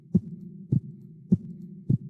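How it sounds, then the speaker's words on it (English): Sampled hospital heartbeat, four evenly spaced low thumps about half a second apart over a steady low hum, close and clear with no voices. "Here's heartbeat 1."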